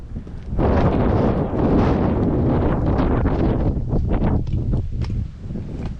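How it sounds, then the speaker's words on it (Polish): Gusty wind buffets the microphone on the shore of lake Miedwie, loud rumbling bursts surging and easing with no speech. "Trochę wieje."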